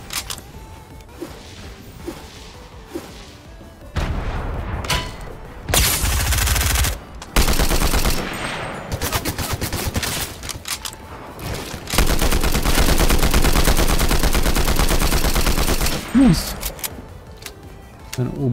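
A new assault rifle in Fortnite fires in long, loud, rapid bursts separated by quieter gaps, with a heavy, sustained stretch of automatic fire near the end and people talking in between.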